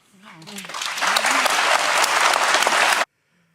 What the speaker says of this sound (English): look at all the people on The View clapping